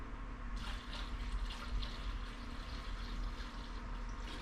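Cleaning solution pours into a container during bike drivetrain cleaning, a continuous soft splashing gurgle of liquid that runs evenly for several seconds, close and moderately quiet, with no talking.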